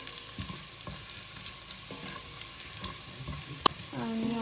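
Food fries in a steel pan over a high gas flame in a home kitchen, giving a steady soft sizzle broken by scraping stirs and a sharp utensil clink, with no voices.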